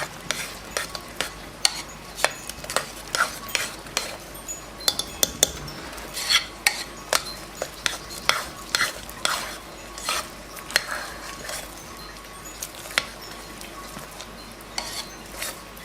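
Hot process pandan soap with titanium oxide is stirred briskly in a pot, with a fast run of clinking, scraping utensil strikes against the metal over a faint hiss; no talking.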